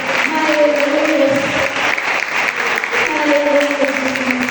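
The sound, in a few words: church congregation applauding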